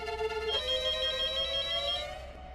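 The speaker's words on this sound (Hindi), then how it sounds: "अब मोबाइल के जमाने में घर के लैंडलाइन में कौन फोन करता है?" A landline telephone rings at home with a bright, steady electronic trill that shifts pitch partway through, clear and close with no talking over it.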